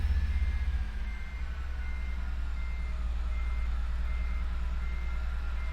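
An International 9800 truck towing a trailer reverses in American Truck Simulator, its backup alarm repeating steady evenly spaced beeps over a low, constant diesel engine drone.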